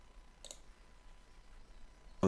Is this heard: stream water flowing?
no